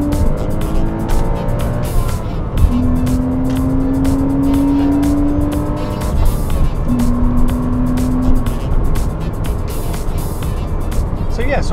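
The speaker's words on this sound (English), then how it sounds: "you might hear a bit more road noise, but it's not as bone jarring as it was." Steady road and tyre roar inside a Porsche Cayman running Michelin PS2 N1 tyres with firm suspension, loud and continuous with engine hum, while people talk over it.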